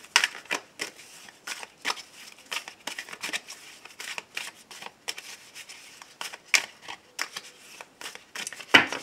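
Tarot cards get shuffled close up in a quick, uneven series of papery riffles and slaps, with short pauses between bursts and no voices.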